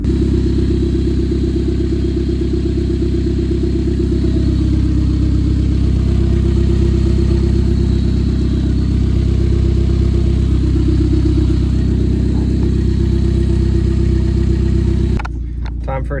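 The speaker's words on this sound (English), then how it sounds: "Let's give you a listen into the engine bay though." Heard from inside the engine bay, a Honda EK Civic engine idles with a loud, steady low drone that holds evenly for about fifteen seconds before cutting off abruptly near the end.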